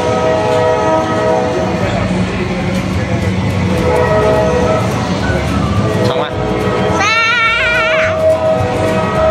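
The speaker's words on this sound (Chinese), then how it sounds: "火车现在很吃力" A small ride-on train carrying children and adults rumbles along steadily while struggling under a heavy load at the rear, with a high warbling whistle near the end and people talking over the loud running noise.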